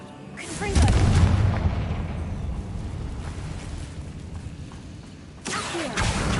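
Spell blast in Hogwarts Legacy, the Confringo fire curse, erupting as a loud booming explosion with a rumbling, lingering roar, then a second burst near the end.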